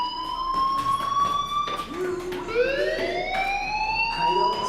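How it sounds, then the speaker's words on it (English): School fire alarm wailing in the Life Is Strange video game, a loud rising and falling siren-like tone sweeping repeatedly, with faint talking underneath. "do you hear that fire alarm?"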